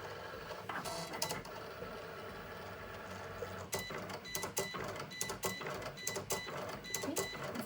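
An electronic cutting machine slices through bag tag material, giving a steady mechanical whir with repeated short clicks and bursts as the carriage moves back and forth, continuous and close throughout.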